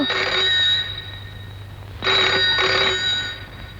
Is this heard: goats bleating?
no